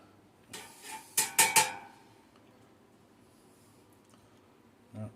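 Food is tipped into an air fryer basket, making a quick cluster of four or five clattering metal knocks and scrapes, close by, then near silence and one faint bump at the end.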